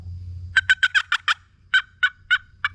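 A wooden box call imitates a wild turkey's fly-down cackle, sending out a quick run of loud, close, raspy clucks, then a short pause and a few slower, evenly spaced notes.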